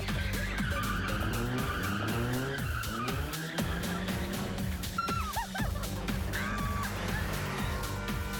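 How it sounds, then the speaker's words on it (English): A car drifts with tires skidding and squealing on San Francisco streets, the engine roaring steadily throughout; loud and close, with rising and falling screeches over a constant motor drone and no talking. "Time to break out the drifting moves."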